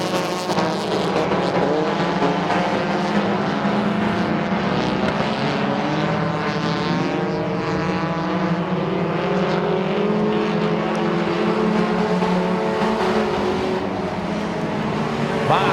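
Race cars run on a speedway track in a sustained, loud engine roar, several motors overlapping with pitches that rise and fall as the pack circulates close by.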